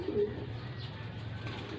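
A pigeon coos nearby, a short soft throaty burst near the start followed by quieter murmuring against a low background rumble.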